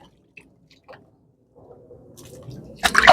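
A cotton jacket, tie-dyed in the Adire style, is rinsed by hand in water, with faint sparse drips and squishes that build into a louder splashing swirl at the end.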